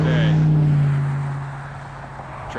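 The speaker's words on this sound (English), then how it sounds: "traffic's up again" Road traffic passing at sunset in Star Valley, a vehicle's engine drone swelling nearby and then fading as it moves away.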